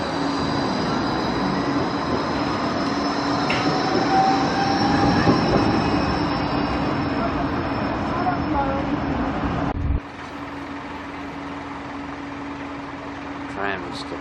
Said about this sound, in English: Tram is departing